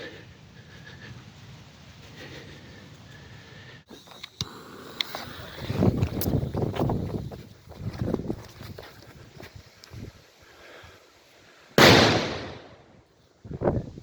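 Black Death firecrackers going off in woodland, a few thuds and pops building up to one loud, sharp blast near the end, followed by a second burst, with no talk over them.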